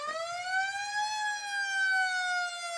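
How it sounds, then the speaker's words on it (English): A 1964 ambulance in a town parade sounds its siren, a clear, fairly close electronic wail rising and falling smoothly, with faint street noise beneath. "1964 ambulance from Schroeder-Lauer Funeral Home"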